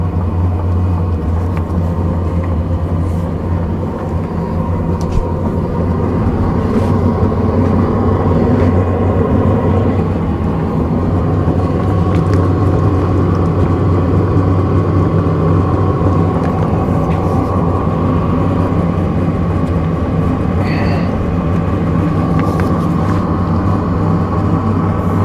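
A Hcalory Max diesel heater runs steadily with a loud, constant low droning hum and fan rush that continues without a break.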